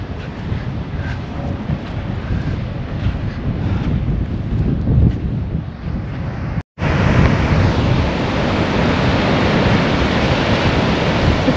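Ocean surf and wind at Robert Moses State Park beach on Long Island make a loud, continuous rushing roar, interrupted by a brief cut before the roar resumes even stronger.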